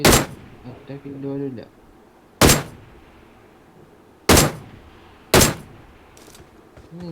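Four sharp, loud gunshots in Battlegrounds Mobile India (BGMI) ring out at irregular intervals, each with a short decaying tail, over faint game background noise, with a brief electronic tone early on.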